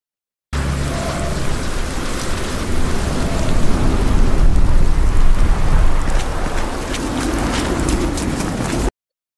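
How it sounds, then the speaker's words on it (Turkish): Steady rain pours over a city scene in the Black State video game trailer, a dense hiss that swells in the middle with low rumbles beneath, continuous and without speech. "Şu yağmur efekti"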